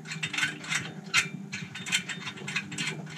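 Ratchet on the downpipe clamp bolts of a BMW N54 335i, loosening them in quick rhythmic bursts of close, crisp pawl clicks with short pauses between strokes, no voices.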